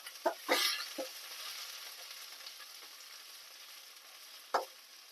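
Urad dal and dried red chillies roasting in a pan, stirred with a few scraping, sizzling strokes near the start and another near the end, over a faint steady sizzle.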